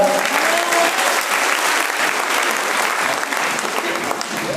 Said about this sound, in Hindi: एक बार तालियां बजा लो, बहुत समझदार है।